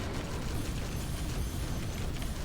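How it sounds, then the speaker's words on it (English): Continuous roar of boss explosions in the video game Magicraft, a dense rumbling wash of blasts that stays loud and steady with no pauses. "now he's doing explosions again, so just keep an eye out for the explosions"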